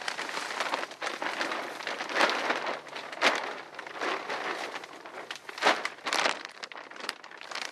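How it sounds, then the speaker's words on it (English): A plastic bag crinkles and rustles as it is pulled over a small tree in the bush, close and loud in irregular bursts of crumpling. "that'll make it easier for me to put the bag over the top"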